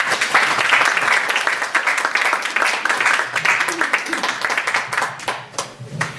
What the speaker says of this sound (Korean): 박수로 맞아주시기 바라겠습니다.